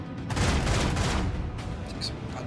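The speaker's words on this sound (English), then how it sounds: "Take some pot shots on the sides." Gunfire in the Rogue Trader video game bursts out as a loud, dense volley of shots that rolls on and slowly thins, with a few sharper cracks near the end.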